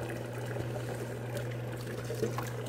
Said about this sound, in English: That water is coming in pretty fast into this barrel.